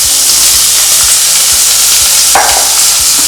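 Small chicken pieces frying in a pan for hot chicken soup, a loud, dense sizzle close up with a regular low thump from stirring about twice a second and one brief scrape.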